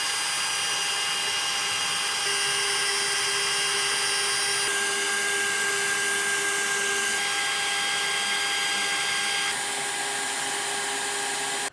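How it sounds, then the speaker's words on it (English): An electric drill whines continuously up close while drilling out spot welds in a rusted firewall patch on a Dentside Ford truck, a steady high-pitched run that stops abruptly. "I'm gonna go ahead and keep drilling these out and get these patches out of here."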